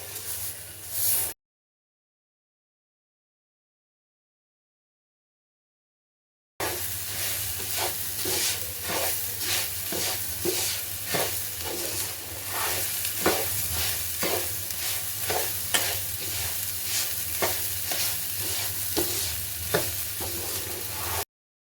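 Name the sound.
grated coconut and sugar being stirred in a pan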